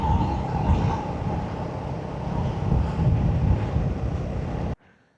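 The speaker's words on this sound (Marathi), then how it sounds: "समुद्राची मस्त अशी थंड हवा येते." Cool sea wind on a coastal road during a drive toward Dapoli, a strong, steady roaring rush buffeting the microphone, loud and continuous before cutting off abruptly near the end.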